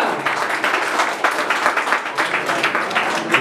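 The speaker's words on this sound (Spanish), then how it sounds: "El aplauso para él y para Julia." An audience applauds at a 40th wedding anniversary party with a mariachi band, producing steady, dense clapping that holds at an even level for several seconds.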